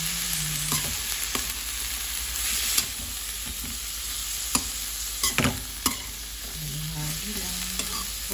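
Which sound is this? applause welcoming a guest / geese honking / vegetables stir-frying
vegetables stir-frying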